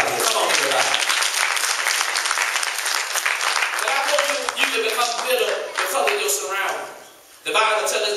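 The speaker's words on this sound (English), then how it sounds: "Y'all want to clap your hand and praise God." Inside a church, a congregation claps hands together in praise, loud and continuous, with voices calling out over the clapping and a brief dip before it resumes.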